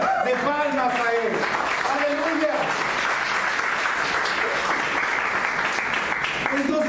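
A church congregation claps as an offering of praise, producing sustained applause with an audible voice over the start and again at the end, fairly faint and roomy.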